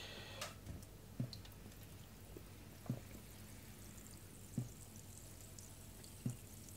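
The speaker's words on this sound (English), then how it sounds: "You immediately hear the bubbles as well." A sharpening stone soaking in a container of water gives off a few faint, isolated bubbling pops as air escapes, spaced roughly every one to two seconds over a quiet background.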